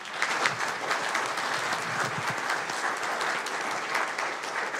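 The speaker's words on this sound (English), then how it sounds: "If we give Kimberly Craig a round of applause as well." Applause from a seated audience at a Monterey County Board of Supervisors meeting, honoring Salinas Mayor Kimberly Craig: sustained, even clapping from many hands filling the room, with no voices over it.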